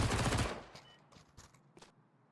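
MP9 gunshots in a Counter-Strike esports match, a loud rapid burst at the start followed by a few sharper, fainter single shots trailing off.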